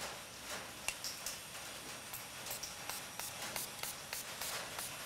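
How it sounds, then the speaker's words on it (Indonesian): Nano coating sprayed onto a car door in short spritzes from a bottle, quiet hissing puffs repeating at an uneven pace against a soft background. "Jadi disemprot."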